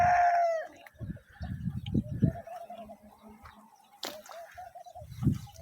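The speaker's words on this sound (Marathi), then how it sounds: "हे बघा, हे कोंबड्या अशा मस्त फ्री रेंजमध्ये चौकड फिरतात." Free-range country chickens and roosters on a farm with fruit trees, clucking and calling repeatedly at close to middle distance, with a long crow-like call at the start and scattered bird sounds throughout.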